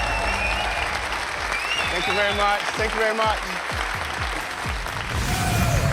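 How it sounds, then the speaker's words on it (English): Studio audience applauding at a televised magic show, a steady broad wash of clapping throughout, with a voice speaking thanks over it. "Give her a round of applause."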